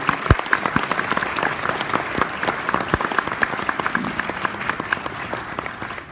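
Sustained applause from a dinner audience at an astronaut event, dense clapping throughout with a few sharper claps standing out, steady and fairly loud.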